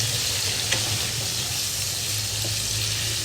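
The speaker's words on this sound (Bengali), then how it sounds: "কড়াইয়ে আলু আর পেঁপে দিয়ে দিয়েছি, দিয়ে আমি ভাজতে থাকছি।" Potatoes and papaya frying in a wok give a steady, close hiss of sizzling oil with a low hum beneath, continuous throughout with no talking.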